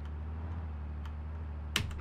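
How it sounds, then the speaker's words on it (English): A single computer keyboard key press near the end, a short sharp click over a steady low hum from Pure Farming 2018 gameplay. "I am using keyboard and mouse, as you can tell."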